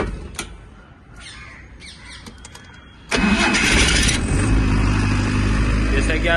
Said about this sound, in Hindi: आइए मैं इसे आपको स्टार्ट करके भी दिखा देता हूँ सर।